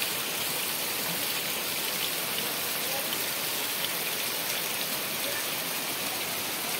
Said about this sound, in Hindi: केते जोर वर्षा हो